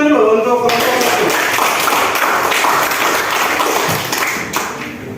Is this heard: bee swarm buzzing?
no